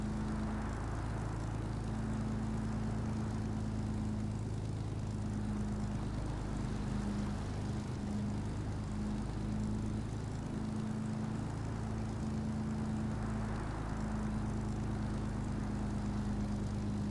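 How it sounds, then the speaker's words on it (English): Propeller aircraft engine starting and running in the War Thunder video game, a steady droning hum with a constant low tonal buzz that holds evenly for the whole stretch, heard alone without talk. "let's see if we can start the engine again"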